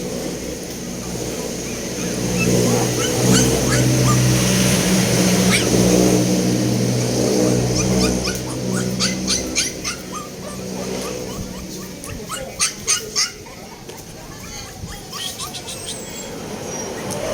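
A shih tzu puppy whimpers and yips in short bursts, mixed with louder sustained engine-like noise and a few sharp barks near the end; faint talk sits in the background.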